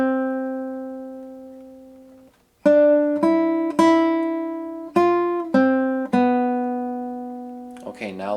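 Clean guitar notes picking out a melody: one long sustained note fading out, a brief gap, then five or six plucked notes each ringing and decaying, close and alone.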